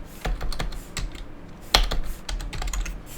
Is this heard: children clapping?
no